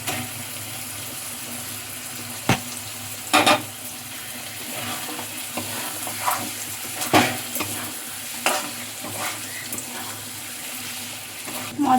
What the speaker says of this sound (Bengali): মশলার সাথে এখানে পনিরটা কষিয়ে নিয়েছি।